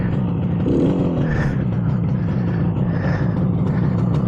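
A 1967 Yamaha YR1 motorcycle engine catches after being rolled downhill in gear, then runs with a rough, throbbing idle and a brief rev, fairly loud and near, without talk.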